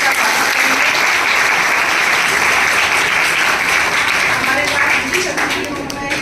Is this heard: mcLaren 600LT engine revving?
no